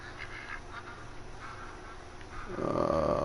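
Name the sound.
ducks quacking in the video game Call of the Wild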